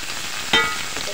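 Chicken feet sauté in a pan with a continuous bright sizzle, broken midway by a sharp louder hiss or clatter as they are stirred.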